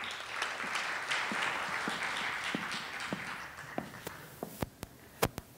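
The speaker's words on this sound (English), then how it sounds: "Let's have a big round of applause for Sarah." An audience applauds a 10th-grade student speaker at a school talk, steady crowd clapping that thins out into a few scattered, louder individual claps before stopping.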